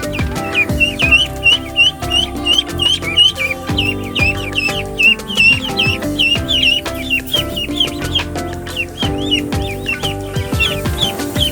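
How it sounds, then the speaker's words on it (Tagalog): Ducks at a small pond give repeated quacking and clucking calls in a steady, close series, with chirps and other bird calls mixed in over a low ambient rumble. "ang mga itik na lumalangoy sa maliit na pond"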